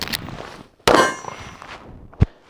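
A pistol magazine drops free after the release is pressed, making a sharp metallic clang followed by a brief rattle, then a single light knock a moment later.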